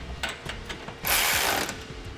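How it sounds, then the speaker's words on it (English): A ratchet wrench with a 19mm socket torques carriage bolts on a CURT Class 2 trailer hitch receiver being fitted to a 2018 Mitsubishi Outlander Sport, giving a few close clicks and then one longer, louder burst of rapid ratcheting. "You'll use a 19mm socket. We'll torque those, then move on to our smaller hex bolts on the bottom."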